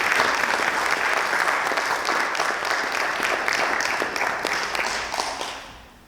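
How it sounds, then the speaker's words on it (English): An audience applauding graduating seniors at a future educator signing day ceremony, dense steady clapping from a crowd that gradually fades out over the final second. "Let's give all of our seniors a round of applause."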